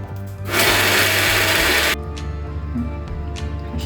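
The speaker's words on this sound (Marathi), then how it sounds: "हे सगळं बारीक करून घ्यायचं मिक्सरमध्ये." A kitchen mixer grinder whirs loudly for about a second and a half as it blends mint, garlic, coriander, roasted peanuts, salt and water into a paste, then cuts off, leaving quiet room tone with light handling clicks.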